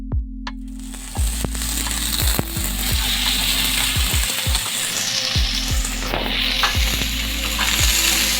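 Tomatoes and chili fry in a pan after potatoes and onions, giving a steady, close sizzle throughout with scattered scraping stir strokes and low thuds. A constant low hum sits underneath and no one talks.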